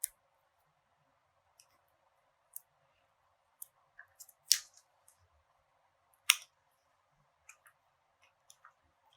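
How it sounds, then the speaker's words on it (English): Scissors snipping through mosaic collage material, a handful of small, separate crisp cuts spaced irregularly over a quiet background, close and faint. "I'm just going to cut the edge out of"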